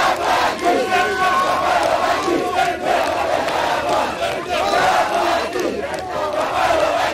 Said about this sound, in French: le président de la République démocratique du Congo s'est offert un bain de foule animé par ses compatriotes vivant à N'Djamena